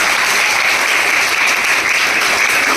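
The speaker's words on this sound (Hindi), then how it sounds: "एक स्वयं के लिए जोरदार तालियां" Schoolgirls at a girls' school honouring ceremony give loud, sustained applause, a dense continuous wash of clapping from a large group close by, with no talk over it.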